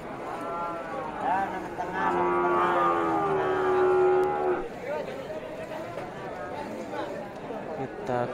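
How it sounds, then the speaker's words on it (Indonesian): Large bulls low at a livestock market, with several long, deep moos close by under steady crowd chatter and someone talking. "Ini deretan tengah, ini deretan sapi jantan besar-besar ya."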